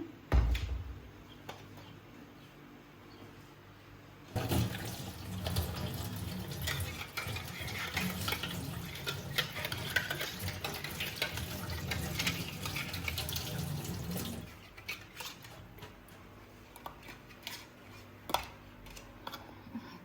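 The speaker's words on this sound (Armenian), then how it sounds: "Շկաներն էլ մի հատ լվանա։" Glass jars being rinsed under a running kitchen tap while stewed plum compote is prepared, with water splashing and glass clinking in a sink, loudest in a sustained middle stretch, quieter trickling before and after.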